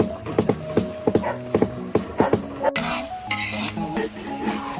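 Food being stirred in a pan while cooking, heard up close as a steady run of scraping, clinking utensil strokes over a sizzle, with a louder hiss near the end.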